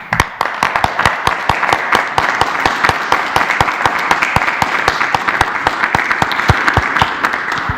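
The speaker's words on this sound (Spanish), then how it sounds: "yo les pediría a todos un aplauso para nuestro personal de salud" Audience applause for medical staff at a COVID-19 press conference, steady dense clapping with sharp individual claps standing out, sustained and fairly loud throughout.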